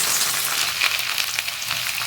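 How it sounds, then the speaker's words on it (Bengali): Carrots fry in hot oil in a wok, giving a steady, close, broadband sizzle with faint crackles throughout and no talking. "তেল খুব ভালো করে গরম হয়ে গেছে, এবার আমি প্রথমেই দিয়ে দেবো গাজর"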